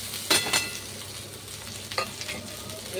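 Leftover cooked rice is stir-fried in a pan with omelette for breakfast, a close sizzle with a few sharp scraping stirs of the spatula against the pan, and no talk.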